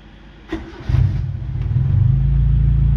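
A used car with 186,000 km on it cranks briefly, catches, and settles into a steady, smooth low idle near 850 RPM, close and fairly loud.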